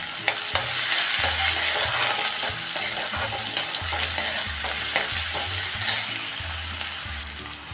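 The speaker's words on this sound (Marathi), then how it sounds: "कांदा आपण हा चांगला गुलाबी कलरवर परतून घ्यायचा आहे" Sliced onion sautés over a medium flame in a pan for eggplant bharit, a continuous moderate sizzle broken by regular scraping stirs of a spatula.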